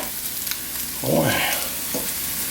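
Sausage and bacon fry in a pan with a steady, moderate sizzle, interrupted by brief scraping and clinking as a fork turns the meat.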